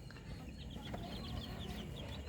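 Chicks four to five days old peep softly and continuously in an indoor brooder, thin high cheeping calls overlapping at a low level over a steady background hum.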